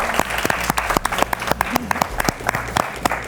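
Steady applause from a small group fills the space, sharp irregular claps overlapping with a few louder hand strikes standing out.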